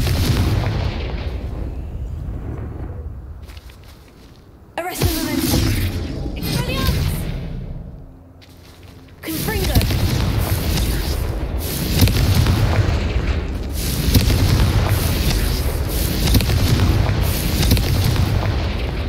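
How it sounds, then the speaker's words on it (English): Confringo fire spells from the Hogwarts Legacy video game burst into booming explosions, first one sharp blast, then a roaring, sustained run of blasts, loud and full over game ambience. "Confringo!"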